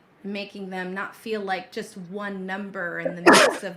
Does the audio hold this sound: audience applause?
no